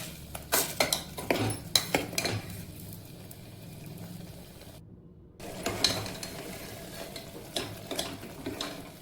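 A pot of tomato puree with whole spices, onion and garlic is stirred with a spoon, sharp metal clinks and scrapes recurring near the pot over a faint low sizzle, with a short silent gap midway.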